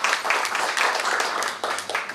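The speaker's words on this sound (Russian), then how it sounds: "под ваши аплодисменты на этой сцене" A concert audience applauds a rock band taking the stage at an evening club show. Close, dense clapping rises and falls in short waves for a couple of seconds.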